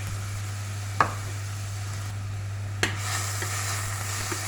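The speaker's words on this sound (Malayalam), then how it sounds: "അപ്പോൾ അതിനകത്തുനിന്ന് നമുക്ക് സവാള ഇട്ട് കൊടുക്കാം" Chopped onions tipped into hot coconut oil for a mutton curry, a faint low sizzle under a steady hum with two or three soft clacks of a spoon, close but quiet.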